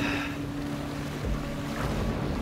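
Wading through water in the horror video game Still Wakes the Deep brings steady splashing and sloshing close by over a constant low rumble of wind and sea, with an engine-like hum underneath.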